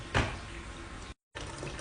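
Water pouring into a washing machine drum for rinsing laundry, a steady close rushing stream with a brief splash near the start and a short dropout in the middle.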